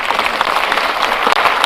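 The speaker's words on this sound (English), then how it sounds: "We can clap for him wherever he is." A crowd at a National Housing Corporation celebration applauds the President with dense, steady clapping that fills the whole moment at close, loud level.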